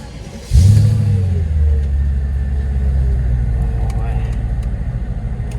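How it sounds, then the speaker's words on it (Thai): A Mercedes E230 on a short test drive near a repair garage: the engine rumbles up suddenly, then holds a steady, close, low drone as the car moves off and cruises. "รอบนี้ก็จะเป็น การลองขับ แบบสั้นๆแถวๆอู่แถวๆอู่เหมือนเดิม"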